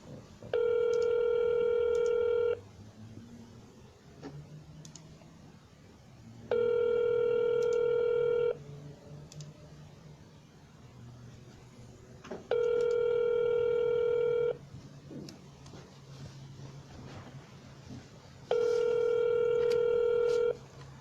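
Telephone keypad tones in four separate bursts, each about two seconds long and spaced roughly four seconds apart, with quiet line hiss between them. Calls are being placed to real estate leads in the North Carolina Triangle market.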